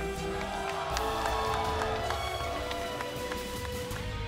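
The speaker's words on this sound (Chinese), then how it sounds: "亲爱的朋友们，请大家再一次拿出大家的掌声呐喊声，送给这些为荣誉而战的双方勇士。" A kickboxing event crowd in China applauds and cheers, a steady dense wash of clapping and shouting with an announcer's amplified voice heard over it.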